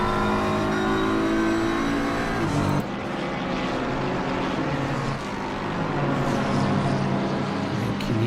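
Race cars including a McLaren and a Lamborghini speed around the Suzuka circuit in a PC racing game, engines roaring loudly and continuously, with a pitch shift partway through as the cars pass the pits.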